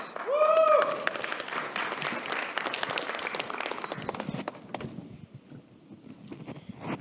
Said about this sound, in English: a big round of applause for Ohad, please.